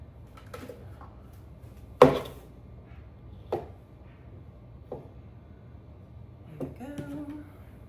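Knife chopping onion pieces on a cutting board: a few sharp, separate thuds spaced a second or so apart, one louder than the rest, close up and fairly quiet, with a brief faint clink near the end.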